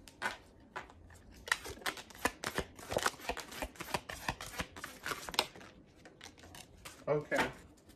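Tarot cards are shuffled in repeated crisp riffling bursts, close and fairly loud, with brief pauses between shuffles.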